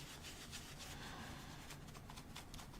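Old grit is scrubbed off fishing reel parts with a pad, giving a quiet continuous rubbing and scraping with uneven back-and-forth strokes.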